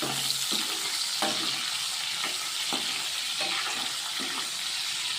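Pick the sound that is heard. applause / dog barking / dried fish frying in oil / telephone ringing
dried fish frying in oil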